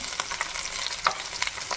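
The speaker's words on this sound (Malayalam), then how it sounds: "ഇതുപോലെ പച്ചമുളക് രണ്ടായിട്ട് പൊളന്നിട്ട് അതും കൂടെ കൂടി വറുത്തെടുക്കണം." Split green chillies and curry leaves fry in hot oil for a beef dry fry, giving a steady close sizzle with scattered sharp crackling pops and no talk.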